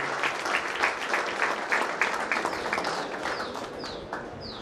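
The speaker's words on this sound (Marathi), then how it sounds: "मान्यवरांना विनंती करतो एका जोरदार टाळ्या आपल्या कॉलेजच्या विद्यार्थ्यांनी सन्माननीय वरिष्ठ गायकवाड यांच्या झाल्या पाहिजे." Applause from an audience at a college honouring function for students who passed the MPSC exam, dense and continuous throughout and fading slightly toward the end, with a few faint chirps over it.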